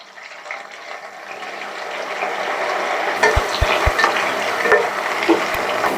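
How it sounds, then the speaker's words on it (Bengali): Steady frying sizzle as eggplant fries in hot oil, with a few sharp utensil clinks partway through; no voices. "সবজির সবাইকার লাস্টে বেগুনটা ভেজে নিচ্ছি।"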